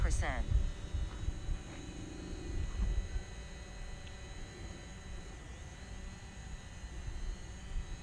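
A small camera drone flies low over an orchard. A steady, faint motor hum holds throughout. Early on a brief tone cuts in, and a low rumble sits underneath.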